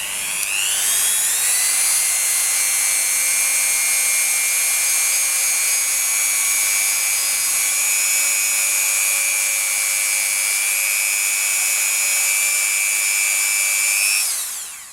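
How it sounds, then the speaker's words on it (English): A rotary power tool buffs a polymer clay pendant, giving a steady, loud, high-pitched whine that spins up at the start, holds for about fourteen seconds with slight pitch wavering, then winds down. "So I'm just going to buff it quickly without Renaissance wax and see how it looks"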